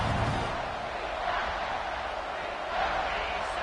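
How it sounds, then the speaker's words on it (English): A football stadium crowd swells in a sustained, loud roar of cheering and shouting that fills the whole stretch, rising again near the end, with no clear speech over it. "This crowd rising up, sensing that its defense needs some help."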